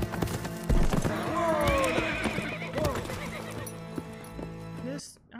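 A horse whinnies loudly with a long, falling neigh, while hooves clip-clop and shuffle on the ground in a fantasy TV drama scene, and other sounds from the show mix in before the audio cuts off abruptly near the end.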